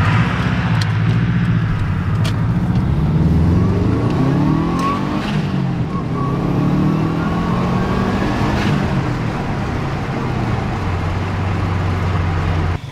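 A Subaru GD WRX drives along, its engine note rising and falling through gear changes under steady road and tyre noise, close and continuous throughout.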